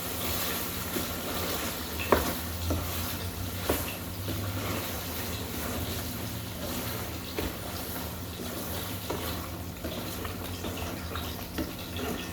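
Bottle gourd being stir-fried in a pan for a hilsa fish curry, a steady soft sizzle with occasional scraping clicks of a spatula, moderately close and continuous, with no talking.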